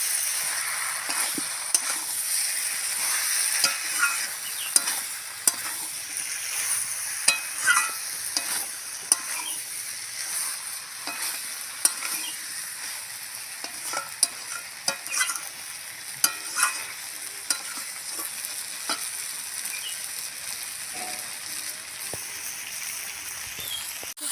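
Jackfruit and shrimp curry stir-frying down to a dry mix in a pan, a constant bright sizzle with frequent spatula scrapes and taps, close and steady.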